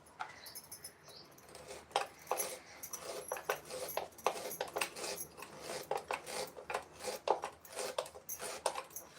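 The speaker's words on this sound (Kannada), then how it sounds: "ಬೀಟ್ ಸಹ ಇದ್ರ ಜೊತೆನೆ ಕಟ್ ಮಾಡ್ಕೊಳ್ತೆ" A knife cuts beetroot on a board with a quick, irregular run of light taps and chops, fairly faint and close by, with no talk.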